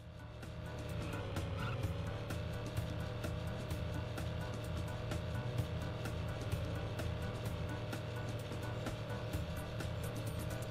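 Roadster race cars in the Stuart Little 3 video game, a steady droning engine hum with faint ticking clicks throughout, quiet and continuous with no voices.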